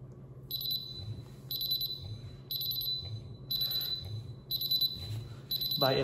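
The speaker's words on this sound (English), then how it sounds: "By applying some gas on the unit, you can see relatively quick alarms and instantaneous readings of the gas level on the display." Senko SGT-P single gas detector sounding its audible alarm after gas exposure: six shrill, evenly spaced beep bursts about a second apart, clear and close over a faint background hum.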